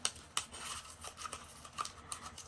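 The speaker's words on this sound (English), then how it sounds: "Let's see if I can cut another one out." Scissors cutting a paper tab from leftover scrap paper, a few soft close snips and crisp rustling, quiet and alone.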